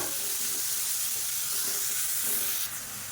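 Finely chopped medium-sized onions sizzle steadily in a hot pan, a close, continuous hiss with faint stirring, no voices.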